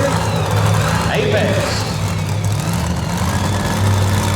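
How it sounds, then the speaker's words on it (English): A loud pulling truck idles at a county fair tractor pull, its heavy engine rumbling steadily and close, while an announcer talks over it. "And we got our next loud truck fired up here."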